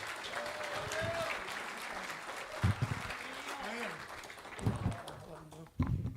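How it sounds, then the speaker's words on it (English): Audience applause at a Las Vegas photography conference, moderate clapping from the crowd with voices and chatter mixed in and a few louder bumps near the microphone. "Everybody, please bring a big hand of applause to Mr. Bill Rauhauser."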